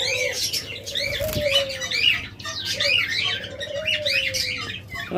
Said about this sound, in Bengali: অসংখ্য পরিমাণ জাভা পাখি রয়েছে